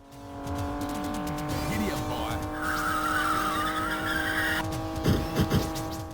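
A Porsche 928 police car in an arcade driving game, engine droning with tires squealing through skids, followed by a few sharp crunching impacts as it rams other cars, with game music tones underneath.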